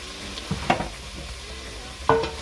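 Seared goat meat for curry goat shaken and stirred in a pot, a steady close sizzle broken by two or three sharp scraping clanks of the utensil, no talking.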